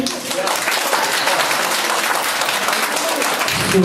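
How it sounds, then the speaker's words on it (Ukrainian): Wedding guests at a reception feast clap together in steady, dense applause, loud and close throughout, with some voices mixed into the crowd noise. "Оплесками, оплески."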